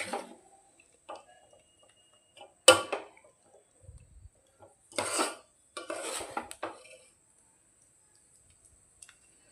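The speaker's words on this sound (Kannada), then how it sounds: "ಇದನ್ನೊಂದು ಬಟ್ಲಕ್ಕೆ ಸರ್ವ್ ಮಾಡ್ತೀನಿ." Chakoli sweet made from leftover chapati is served into a bowl with a few sharp clinks of a spoon against the dish, separated by quiet gaps, close up with no talk.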